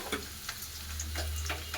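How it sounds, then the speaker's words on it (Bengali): Garlic, chili and onion fry in hot oil with a steady low sizzle, broken by a few soft, sharp ticks of utensil or spatter near the pan. "এইবারে আমি তেলে দিয়ে দেব রসুন, লঙ্কা, পেঁয়াজ"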